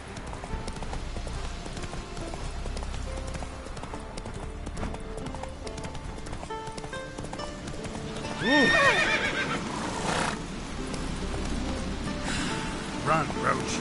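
Roach the horse from The Witcher 3 gallops with rapid rhythmic hoofbeats, breaking into a loud whinny partway through, over background game music.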